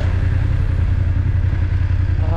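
A motorcycle on a road trip through Normandy, France, roars continuously at close range. The engine drones at a steady, loud level with a low rumble throughout and no pauses.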